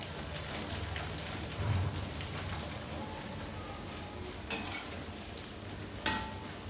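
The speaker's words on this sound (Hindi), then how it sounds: "जब तक हमारा आटा सेट होता है, तब तक हम पापड़ फ्राई कर लेते हैं।" Papad frying in hot oil gives off a continuous crackling sizzle like steady rain, with a few brief sharper pops and clinks standing out now and then.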